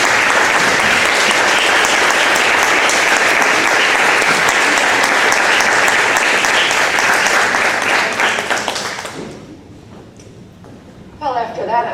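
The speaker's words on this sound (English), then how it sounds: "if you could please give me a round of applause, or give her a round of applause" Loud audience applause for Kathryn at a gathering, dense clapping that fades out near the end, followed by a brief bit of speech.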